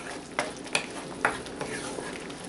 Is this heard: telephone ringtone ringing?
no